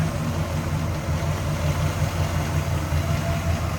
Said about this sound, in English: Just good sounding, good running engine.